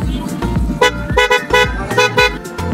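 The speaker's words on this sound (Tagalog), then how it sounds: "So, sound check tayo ng PIA horn ni sir." A newly installed PIAA horn on a Bajaj RS200 motorcycle sounds in several short, loud honks spaced about half a second apart, with a voice talking over them.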